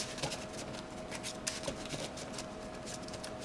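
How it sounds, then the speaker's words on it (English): Soft, rapid riffling of a card deck being shuffled in a digital card game, a faint fluttering crackle with a few small clicks, alone against a quiet hum. "Another shuffle."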